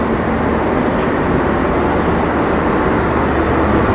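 The power car of the Kapotaksha Express, a broad-gauge intercity train in Bangladesh, runs with a loud, steady droning hum and rumble that holds unchanged and close by throughout.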